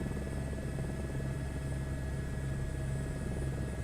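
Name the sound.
helicopter flying in Microsoft Flight Simulator 2024, video game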